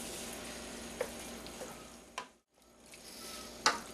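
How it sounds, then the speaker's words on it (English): Caponata mixture being reheated and stirred in a pan, a continuous sizzle with a few spoon scrapes and knocks and a brief drop to near silence midway. "Now we're just going to add our mixture here back into it, just to reheat it and stir in all that stuff."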